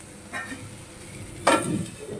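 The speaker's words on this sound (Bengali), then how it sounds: "এদিকে আমি ফুলকপিটা ভাজা দিয়ে দিয়েছি, নুন একটু হলুদ দিয়ে ভাজিয়ে দিচ্ছি" Cauliflower pieces fry in oil with salt and turmeric, a soft steady sizzle with a brief scrape of stirring near the end, close by with no talking.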